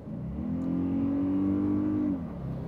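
A 2024 Toyota Grand Highlander Hybrid Max accelerating: a steady engine drone rises in pitch as it pulls, then eases off after about two seconds, heard close from inside with no talking.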